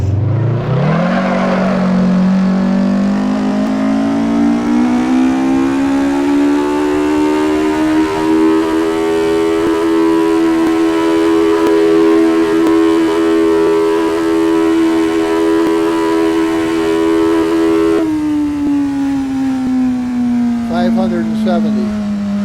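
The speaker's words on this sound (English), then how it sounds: "If I bat it down in 6th gear right now, I'm going to break the tires loose." A car engine pulled hard in sixth gear, a loud sustained drone that climbs steadily in pitch for many seconds, then drops as the throttle lifts, with a voice talking over it.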